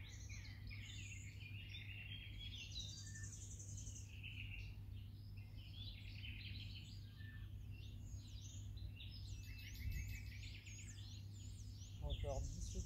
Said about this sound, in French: on peut également profiter du chant matinal des oiseaux